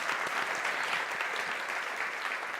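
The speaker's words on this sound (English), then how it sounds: "we should give her a big round of applause" A room full of people applauds the Governor-General, steady dense clapping sustained at an even level throughout with no voices breaking through.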